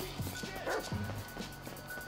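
The dog Chop barks in GTA 5, a few sharp near barks and yips spaced across a short stretch, over steady game ambience.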